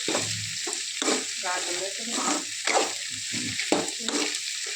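Curry leaves hit hot oil and sputter, producing a bright continuous sizzle with crackling bursts, while a few low knocks and stirring movements come through underneath.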